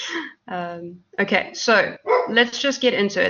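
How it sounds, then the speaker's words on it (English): Household dogs bark through a thunderstorm, with brief barks and yips mixed in around a nearby speaking voice. "Apologies for my dogs barking."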